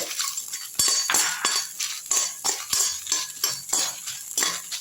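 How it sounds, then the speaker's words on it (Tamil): Dried red chillies and salt dry-roast together in a pan over a low flame, a spatula scraping and stirring them in close, steady, rhythmic strokes with bright, gritty rattling. "நல்லா வறுத்துருங்க ரெண்டுத்தையும் சேர்த்து"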